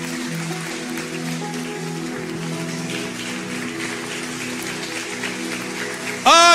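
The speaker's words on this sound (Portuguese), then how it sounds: "fica de pé e aplauda ao Senhor" A church congregation stands and claps for the Lord during a Sunday morning service, a steady rain-like patter of many hands over sustained musical tones, swelling into a sudden louder burst right at the end.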